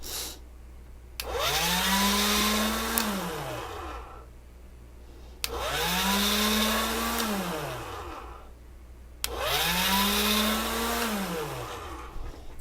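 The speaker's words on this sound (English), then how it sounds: "Got another machine that's got a motor on it, so that might be a little noisy." A motorized machine conditioning material for color mixing runs in three separate bursts of about four seconds each, its motor whining up in pitch and winding back down every time, loud and close with short quiet gaps between.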